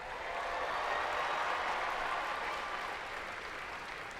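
Sustained applause from a large audience at a state robotics championship, a dense steady wash of clapping and cheering that holds loud for several seconds and eases slightly toward the end.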